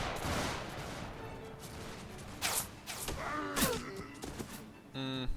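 Musket volleys in Mount & Blade Warband during an American Revolution battle: a dense, noisy crackle of scattered shots over a continuous battlefield roar, with a few sharper reports standing out and voices shouting faintly.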